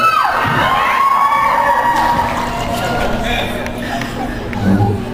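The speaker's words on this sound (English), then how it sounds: "based on your screaming and proclamations of love" A VidCon 2014 audience screams and cheers loudly in a large hall, a dense, continuous roar of high-pitched shrieks and whoops that fills the space.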